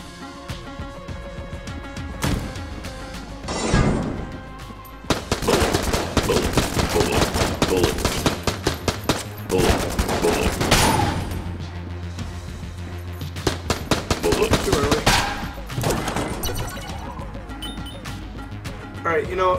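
Rapid machine pistol gunfire in the video game Enter the Gungeon, steady bursts of quick loud shots that start around five seconds in and keep going, over a busy game soundtrack.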